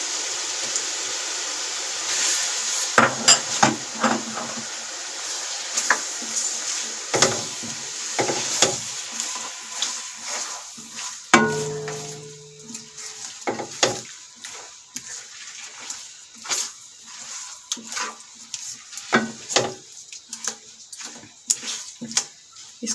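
Chicken korma cooks in a pan as garlic ginger paste is added, giving steady sizzling and frying with scattered clinks and stirring scrapes of a spoon, close and fairly loud, with no voices.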